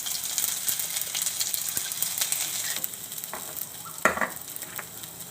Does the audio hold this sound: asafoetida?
yes